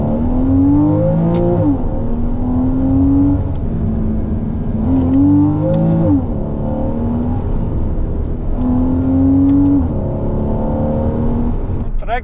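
Engine of a Porsche Cayman sports car on the move, revving up through several gears in rising sweeps, each pulling higher before dropping back, loud and close inside the cabin.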